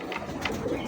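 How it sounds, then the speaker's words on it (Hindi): A Sialkoti Galatu pigeon gives soft cooing calls in a close, brief burst over faint background noise, with no talking. "ये गलाटू कबूतर है दोस्तों, सियालकोटी गलाटू कबूतर"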